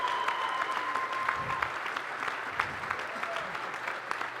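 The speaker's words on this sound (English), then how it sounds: "really a big round of applause." A crowd at the EVE Vegas 2019 closing ceremony claps steadily in sustained applause that holds at an even level throughout.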